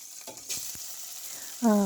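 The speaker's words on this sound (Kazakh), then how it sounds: "қайысып тұрған майымызға қуырып аламыз жақсылап" Long thin strips of meat sizzle and crackle in hot oil for a funchoza salad, with a bright frying hiss and occasional stirring clatter, ending in a brief tonal whine.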